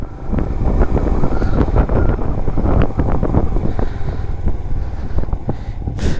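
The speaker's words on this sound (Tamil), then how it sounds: "இந்த இடத்துல ஃபுல்லாக சாண்ட் ஸ்டார்ம் வந்துடுச்சு" Strong wind from a sandstorm near Pangong in Ladakh buffets the microphone, loud and gusty with irregular low thumps and roaring rushes throughout.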